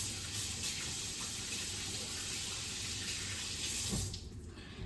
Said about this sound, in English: I'm going to wash my hands really quickly.